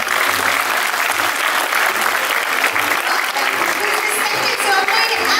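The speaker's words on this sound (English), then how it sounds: "Let's give a round of applause." Audience applause at a benefit fashion show, a full, continuous round of clapping from a large crowd, fairly loud and even, with faint voices and low thumps beneath.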